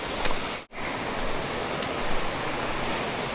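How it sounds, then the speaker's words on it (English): Steady broadband roar of falling water at Comer's Creek Falls on the Appalachian Trail, a continuous rushing wash close by with one brief dropout, no voices. "I love me a beautiful waterfall."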